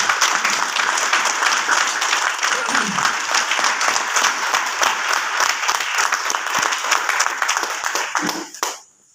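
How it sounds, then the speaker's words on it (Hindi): Audience at a direct-selling business seminar bursts into loud, sustained applause with a few distinct sharp claps standing out, continuing steadily for about eight seconds before cutting off abruptly. "तालियां बनती है एक बार इस सिस्टम के लिए"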